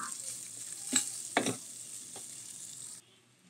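Garlic sautés in a pan for a carbonara with a bright, close sizzle, broken by a couple of sharp stirring scrapes, before the sound drops off abruptly near the end.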